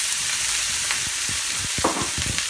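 Cherry tomatoes sizzling in a frying pan, a steady close hiss of frying with soft stirring scrapes and light pops throughout, no talking.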